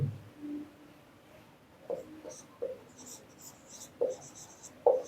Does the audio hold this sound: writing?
yes